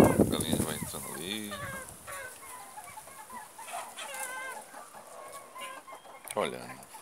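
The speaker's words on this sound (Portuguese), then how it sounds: "A galinha vai entrando ali." Chickens cluck repeatedly at close range in a backyard coop, with a loud burst at the start and scattered clucks and squawks continuing throughout, over quiet background noise.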